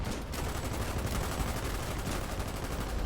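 Dense gunfire from a battle in a war game crackles nonstop, rapid overlapping shots and machine-gun bursts, loud and close, with no pause.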